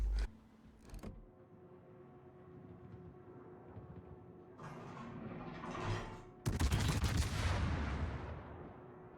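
Naval guns of the Italian battleship Venezia fire salvos in World of Warships, with sharp distant reports followed by rising roars and a heavy, loud blast near the end.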